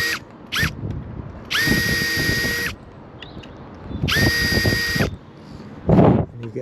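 A power drill plunges a centering bit straight down into a door hinge for screw holes, giving two loud, steady whining bursts of about a second each, with short clicks and knocks between them and no talk.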